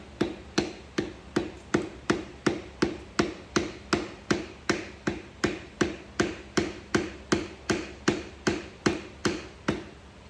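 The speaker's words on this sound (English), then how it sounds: "try and knock the piston out" Hammer knocking out a seized piston, a long run of evenly spaced sharp metallic blows, about two a second, each one loud and close with a short ringing decay, no talking.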